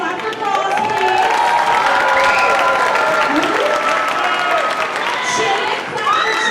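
An audience at an elementary school district orchestra concert applauds and cheers loudly, with clapping, whoops and children's shouts blending into a continuous roar that dips briefly before swelling again.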